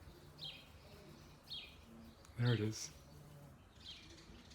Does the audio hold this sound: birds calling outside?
yes